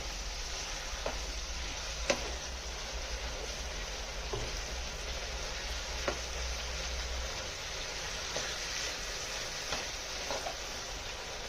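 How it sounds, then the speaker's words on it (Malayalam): Varutharacha chicken curry with masala being stirred in a pot: steady soft sizzle with scattered faint scrapes and clinks of the spoon, close and continuous, no talking. "അതൊന്ന് ചിക്കനൊക്കെ ഒന്നുകൂടി ഇളക്കി നല്ലോണം അങ്ങോട്ടും"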